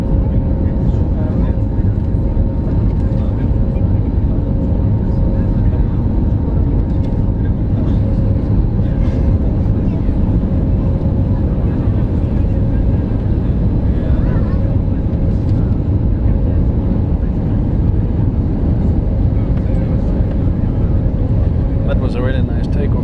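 Cabin noise inside an SAS Airbus A320neo climbing after takeoff: a loud, constant broadband roar with a faint hum, steady from start to end with no clear breaks.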